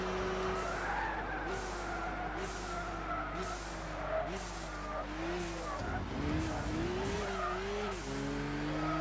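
Race car engine in Gran Turismo 6 roaring steadily with rising and falling revs, with repeated bursts of exhaust hiss and pops and some tire noise through a busy driving sequence.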